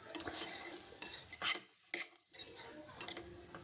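Karchi kaya fries in oil with spices in a pan while a metal spoon stirs and scrapes, giving sharp clinks and scrapes in an irregular rhythm over a faint sizzle, close and fairly quiet.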